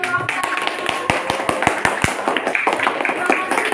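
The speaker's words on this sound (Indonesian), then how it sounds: "Tepuk tangan buat Nur Okta" A classroom group claps for a student, a burst of sharp, fairly close hand claps in quick rhythm that thins into scattered clapping, with voices mixed in.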